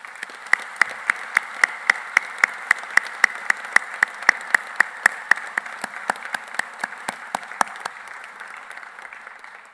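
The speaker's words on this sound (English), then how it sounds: "I think we should give all our graduates a round of applause." Sustained audience applause at a Teesside University graduation ceremony for the graduates, steady and loud with sharp individual claps standing out, then thinning toward the end.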